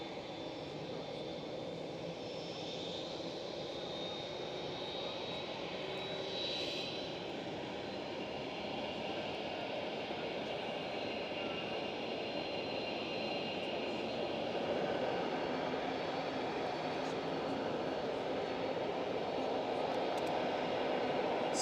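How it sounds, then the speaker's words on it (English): A Boeing 787 Dreamliner starts taxiing at Amsterdam Schiphol, its engines a steady, distant, broadband roar with a faint whine, holding constant for the whole stretch and swelling slightly toward the end. "I do think this Dreamliner is standing there for quite a while, but taxi light is on. They will start their taxi ride"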